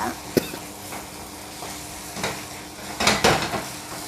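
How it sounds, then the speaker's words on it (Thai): Diced chicken breast stir-fried with sugar in a pan until dry, a spatula scraping and clattering against the pan in a few sharp strokes over a soft sizzle, close up and with no talking. "ใส่น้ำตาลทรายไปสักครึ่งช้อนชาค่ะ คั่วไปจนแห้งเลยนะคะ"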